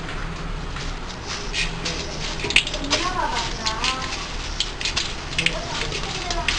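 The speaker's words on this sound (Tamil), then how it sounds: "கடுகு போடுறோம்." Mustard seeds splutter and crackle in hot oil in a pan while vathal kulambu is being cooked, a dense, close popping and sizzling that continues throughout, with a voice talking over it.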